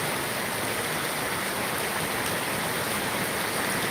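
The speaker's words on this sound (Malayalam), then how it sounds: "മഴ ചാറ്റൽ മഴയായിരുന്നു" Drizzling rain on the way to the Aduputty church feast, a constant close wash of fine water noise, loud and unbroken, with no one speaking.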